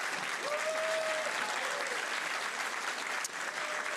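Audience at the Cannes festival giving sustained, dense applause for studio staff, a loud even roar of clapping with a faint tone and a short sharp click near the end.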